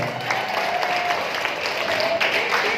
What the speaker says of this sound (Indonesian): Tepuk tangan buat istri saya.